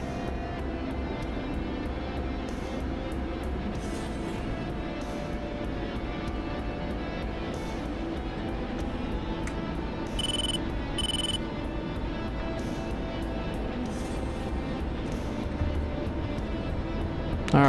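An airplane engine drones steadily and loudly throughout a takeoff, a continuous propeller hum with brief faint radio-like beeps in the middle and no clear talk.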